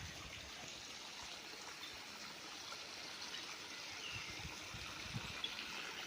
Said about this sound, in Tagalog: Ayan ang ilog mga kaprops.